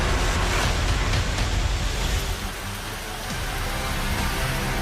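Heavy downpour at Sursagar Lake in Vadodara, Gujarat, a steady, dense roar of rain hissing close and loud throughout, with no voices.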